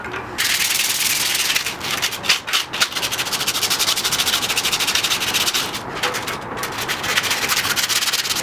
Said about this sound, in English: I'm probably just going to hit the areas where I'm going to be throwing paint down with some sandpaper real quick, just to rough up the area